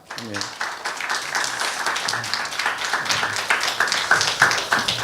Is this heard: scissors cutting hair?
no